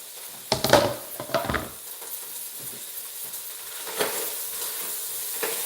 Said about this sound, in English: now we put carrots and celery sticks inside our soup